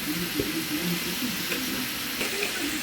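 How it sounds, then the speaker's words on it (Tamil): Vegetables sautéing in ghee with curry leaves give a continuous close crackling sizzle, with faint stirring scrapes mixed into the steady frying. "இந்த காய் வதக்கிறது கொஞ்சம் நெய் ஊற்றிக்கலாம். கருவேப்பிலை போட்டோம்."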